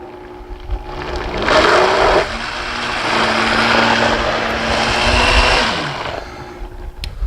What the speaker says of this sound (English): Now I'm just going to kind of blend those together to mix them.